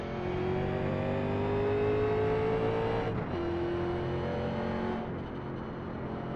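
Simulated NASCAR stock car from 1987 on a qualifying lap at Darlington in iRacing, its engine droning loud and steady with a rising pitch through the gears, then a shift and a lift around the corner, alone without talk.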